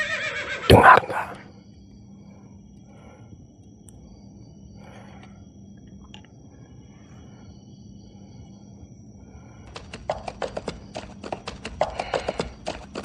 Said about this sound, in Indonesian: Dengar nggak suara rintihan kuda?